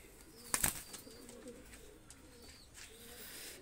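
A pair of golden pigeons released by hand, with soft repeated cooing and a brief burst of wing flapping near the start, close and moderately loud against quiet surroundings.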